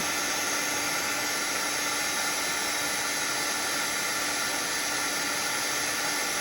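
A heat tool blows hot air over puff paint on a postcard, a steady, loud, unbroken whooshing roar that stays level throughout with no talk.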